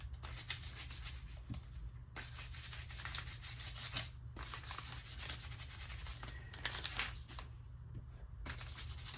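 A junk journal cover being distressed by hand, repeated scratchy rubbing and sanding strokes in short bursts, close and quiet with a low background hum.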